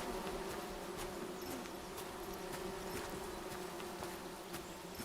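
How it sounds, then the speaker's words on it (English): Bees buzz in the video game Among Trees, a faint, steady hum with small swells in level, continuing throughout with no talking. "Oh, there's more bees there as well."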